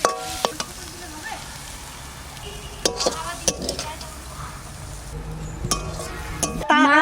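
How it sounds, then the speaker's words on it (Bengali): Drumstick flowers frying in oil in a pan, a close continuous sizzle with stirring, punctuated by sharp metallic clinks of a utensil against the pan. "এই যে ফুল ভাজা হয়ে গেছে"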